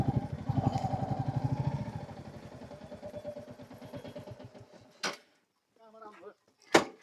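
A motorcycle near Kaude Lek in Palpa, Nepal: its engine throbs close by, then fades over a few seconds. Sharp clattering knocks follow, and there is brief faint vocal sound.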